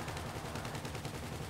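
Rapid gunfire in a vehicle video game, shots aimed at a sticky bomb, a dense steady burst of cracks with a low rumble beneath, continuous across the whole stretch with no voices.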